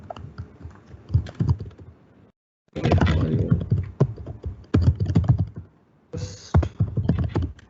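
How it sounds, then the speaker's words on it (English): Rapid clicking of computer keyboard keys in steady bursts with short pauses, as a paragraph is typed, close and clear with no voices. "I will type some paragraph here"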